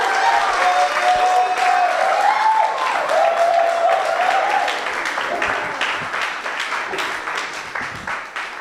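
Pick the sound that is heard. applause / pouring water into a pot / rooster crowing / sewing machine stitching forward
applause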